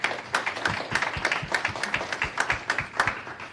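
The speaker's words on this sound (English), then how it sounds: "So everyone, please give a round of applause to Representative Robbins." An audience at a policy event claps together for a speaker, a dense and steady patter of many hands, moderately loud and without talk.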